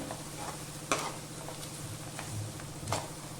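Sliced onions frying in oil for paneer biryani, a faint, steady sizzle with a few soft stirring scrapes and clicks, no talking.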